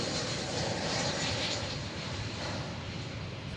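An airliner taxiing at Dallas Fort Worth Airport gives a steady, broad jet-engine roar, fairly close and unbroken, with no voices over it.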